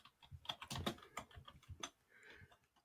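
Rapid, close clicking of computer keyboard typing, a quick irregular burst of keystrokes that tapers off, quiet and without voices.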